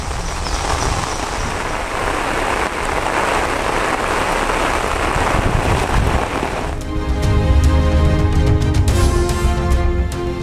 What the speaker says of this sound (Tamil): சுட்டெரிக்கும் வெயிலுக்கு இடையே பெய்த மழையால் இதமான சூழல்.